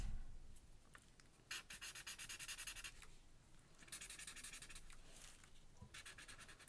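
Marker pen nib scratching across paper in bursts of strokes, a rough raspy rubbing that starts and stops several times, close and fairly quiet.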